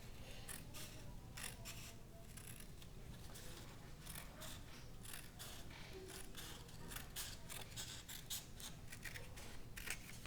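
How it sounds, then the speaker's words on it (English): Scissors snip through a folded paper square along its crease, a steady run of small close crisp cuts over a faint constant background hum. "we're going to cut right along that crease"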